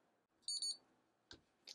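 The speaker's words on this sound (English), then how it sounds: "Just beeped." A THINKCAR THINKSCAN 662 OBD2 scanner gives a short double electronic beep as a USB charger is plugged in, followed by two faint clicks in a quiet room.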